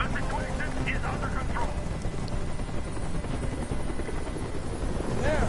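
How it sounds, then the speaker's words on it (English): Helicopter rotor noise from the video game Detroit: Become Human, a steady loud drone hovering close overhead through the whole stretch, with game voices talking over it. "Tell that helicopter to get out of here."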